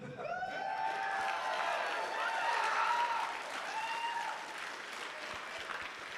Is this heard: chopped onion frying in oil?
no